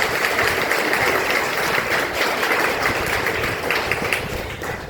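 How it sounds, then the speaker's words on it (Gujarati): Audience clapping to welcome guests at a birthday gathering, a dense, steady burst of applause throughout. "આપણે સૌ તેમનું તાળીઓથી સ્વાગત કરીએ।"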